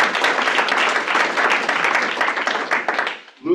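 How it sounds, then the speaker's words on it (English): Audience applause at a stakeholder meeting: dense, steady clapping from a crowd, fairly close and loud, holding evenly for about three seconds before cutting off abruptly near the end. "And let's give Luda a round of applause."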